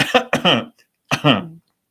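A few sharp coughs followed by a throaty clearing sound, close and loud, with short silent gaps between bursts.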